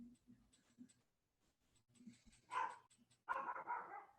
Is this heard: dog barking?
yes